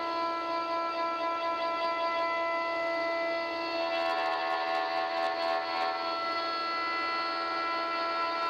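A CNC router runs a shallow profile toolpath in ash wood, giving a steady, tonal, whining spindle hum at moderate level throughout, with some brief added cutting noise midway and no talking.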